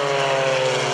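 Propeller airplanes of an aerobatic team fly over an airshow, their engines giving a loud, steady drone that holds evenly through the whole moment.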